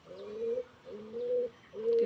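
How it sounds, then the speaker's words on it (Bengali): Pigeons at a pigeon farm cooing in three rhythmic, low, rolling calls, moderately near and clear against a quiet background. "কবুতর খামার আমাদের"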